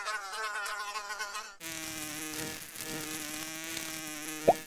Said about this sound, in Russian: А, вот и муха.